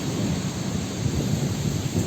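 Unseasonal rain falls steadily in a dense, even hiss, with a deep thunder rumble rolling underneath throughout; no voices.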